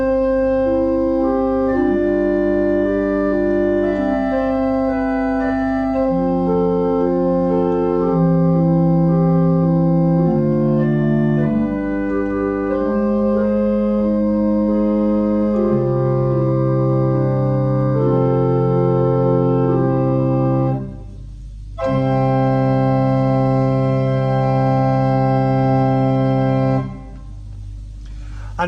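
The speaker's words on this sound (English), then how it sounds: "Let's try that with the Lieblich Gedakt" Pipe organ sounding its Lieblich Gedakt stop, a soft stopped flute tone playing sustained chords and a moving melody for nearly thirty seconds, steady and fairly loud, with a brief drop near the end and no talking.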